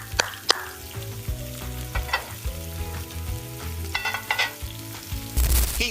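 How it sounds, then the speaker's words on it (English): Onion, spring onion, garlic, thyme and Scotch bonnet pepper fry in sunflower oil over medium-low heat, a continuous close sizzle broken by a few sharp clinks and stirring scrapes, with a louder hiss near the end. "Heat sunflower oil over medium-low heat, then add the onion, spring onion, garlic, thyme, and Scotch bonnet."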